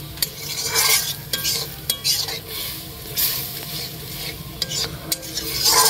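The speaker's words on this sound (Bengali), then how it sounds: "জলটা দিয়ে ভালো করে মিক্স করে দিব" Spoon scraping and stirring a spicy kadai mushroom masala after water goes into the pan, with repeated clinks against the metal and a light sizzle underneath, close and steady with no talk.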